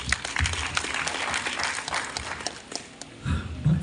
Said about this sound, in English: Please let's give you a round of applause.